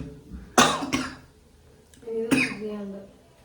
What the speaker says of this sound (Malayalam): ഇടയ്ക്കിടയ്ക്ക് ചുമ വരുന്നുണ്ട്